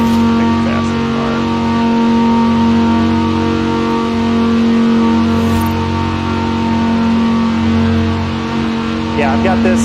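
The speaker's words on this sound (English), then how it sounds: "I'm driving the R8 right now, and I've got it pretty much pegged at 180" Audi R8 engine in a driving video game, held near top speed as a loud sustained steady hum with a strong constant tone. People talk over it.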